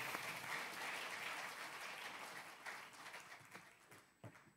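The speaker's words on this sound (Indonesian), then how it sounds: "Saudara, kita berikan aplaus sekali lagi untuk anak-anak ini." Audience applause in a church service for children, a steady wash of distant clapping that gradually thins and trails off into a few scattered claps.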